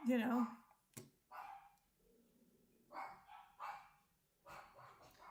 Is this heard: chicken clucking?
no